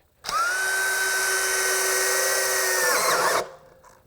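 A DeWALT 20V drill with a 3 5/8-inch self-feed bit whines steadily for about three seconds as it bores, then spins down and stops.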